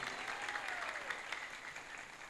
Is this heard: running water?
no